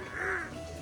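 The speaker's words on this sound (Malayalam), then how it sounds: "ആ ആ കാക്കനെ കണ്ടിട്ടുണ്ടോ" A crow gives a single drawn-out caw, fairly close and clear over a quiet outdoor background, with no talking.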